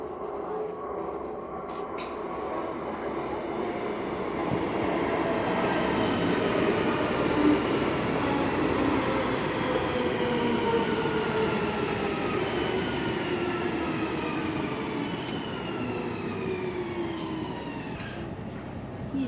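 A train pulls into a station on a Baltic trip through Malmö and Copenhagen, its rumble building and holding for nearly twenty seconds, with long rising and falling metallic tones from wheels and brakes, loud and close, with no talk.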